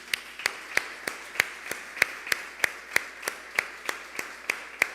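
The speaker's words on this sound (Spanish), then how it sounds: "Dele un aplauso al Señor." Rhythmic clapping from a church congregation, sharp evenly spaced claps roughly three per second, moderately close and steady with no talking over them.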